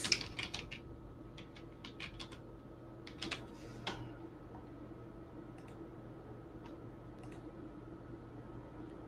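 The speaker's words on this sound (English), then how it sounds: "If I type Patricia" Typing on a computer keyboard while entering an item during an online editing session, heard as scattered, fairly faint clicks in short bursts near the start, over a steady room hum.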